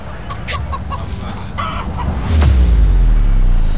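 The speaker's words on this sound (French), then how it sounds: "Je rêve où il y a une poule." A chicken clucks in short, rhythmic bursts at a large water park aboard a cruise ship, close and clear over a steady hum, before a heavy low rumble swells up at the end.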